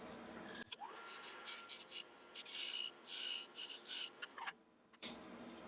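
Sanding the corner of a wooden coaster by hand in a woodturning workshop, giving short rasping strokes in bursts, close and fairly soft, with a brief pause before a final stroke.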